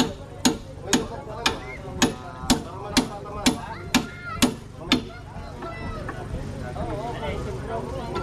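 Hammer blows struck with a metal hammer, about nine sharp evenly spaced impacts over five seconds, fairly close and loud, then a busier background of voices and clatter.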